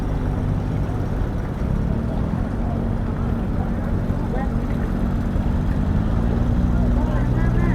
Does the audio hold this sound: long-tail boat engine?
yes